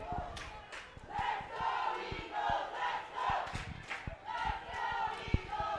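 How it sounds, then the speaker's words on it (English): Layton Christian supporters at a high school boys soccer semifinal against Murray shout and chant as a rowdy crowd, a steady swelling roar with rhythmic yells and scattered claps, moderately distant and continuous. "Layton Christian crowd is now getting into this one, trying to drive their team forward"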